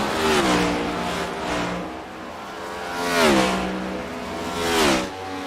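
Race cars battling closely at Watkins Glen, several engines revving and sweeping past with rising and falling pitch, loud and overlapping, two distinct passes building and fading.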